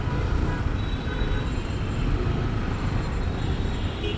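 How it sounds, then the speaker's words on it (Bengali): A Metro Prabhati city bus runs ahead in dense Chittagong street traffic, a constant loud rumble of engines and road noise heard from inside a moving vehicle. "এটা আমার সামনের গাড়িটা হচ্ছে মেট্রো প্রভাতী"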